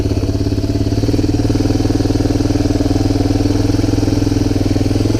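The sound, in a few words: Honda TRX250 ATV engine running on first ride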